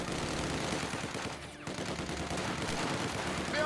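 Dense rapid gunfire from conscript infantry firing out of a building in a Company of Heroes style strategy game, bursts of rifle and machine-gun shots crackling loud and continuous, briefly dipping then resuming.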